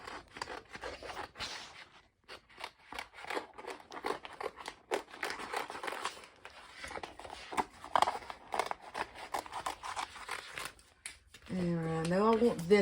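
Scissors snip through a sheet of paper in a craft project, a run of short crisp cuts and rustling, close and moderately loud, ending with someone talking.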